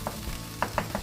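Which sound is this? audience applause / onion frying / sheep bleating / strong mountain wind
onion frying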